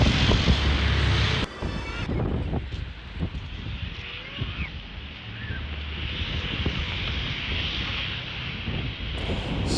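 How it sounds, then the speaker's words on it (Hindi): Strong wind roars steadily into the microphone at night in Vietnam, a broad rushing buffet that persists throughout with gusty low rumbling and no speech. "इतनी तेज़ हवाएं चल रही थी"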